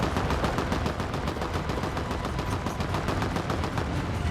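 Rapid automatic gunfire in the video game Fortnite rattles out in a dense, steady stream of sharp cracks. The shots are loud and continuous, with no speech over them.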